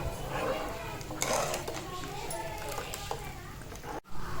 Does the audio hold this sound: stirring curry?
yes